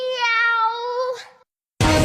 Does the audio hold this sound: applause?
no